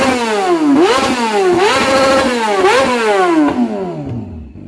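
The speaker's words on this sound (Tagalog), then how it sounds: "R6, Yamaha R6." Yamaha R6 sport bike fitted with an SC Project exhaust, revved hard in repeated high-pitched rising sweeps, loud and close, dropping back between pulls before fading at the end.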